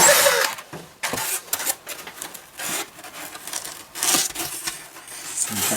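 Drill bit boring through material to make a recycled seed-starting tray, rough rasping bursts that start, stop and restart several times at close range with no talking.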